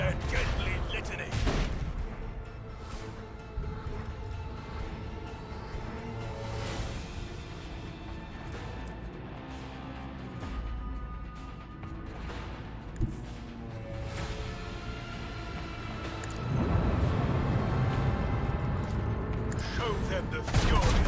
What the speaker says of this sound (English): I want to hear the macro cannons roar!